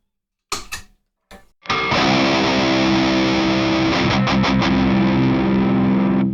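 An electric guitar runs through a high-gain amp with the boost engaged: a couple of short muted picks, then a thick, saturated sustained chord ringing loud and steady to the end.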